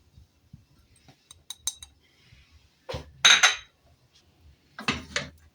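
Spices and finely chopped fat stirred in a bowl for layered Moroccan msemen, giving scattered light clinks and scrapes of a spoon against the bowl, with a few louder bursts of stirring between quiet gaps.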